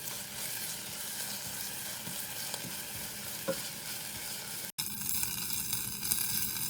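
Ginger and garlic paste fries in a pan with a steady, close sizzle, a brief sharp dropout partway through, then the hiss resumes under occasional stirring scrapes.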